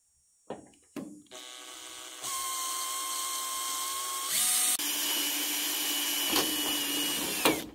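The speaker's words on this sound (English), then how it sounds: "when you're drilling, don't put your fingers on the bottom side" A power drill bores into a downspout splice during a rain barrel installation, giving a steady, close, high-pitched whine that shifts pitch as it cuts, with a few knocks at the start and end.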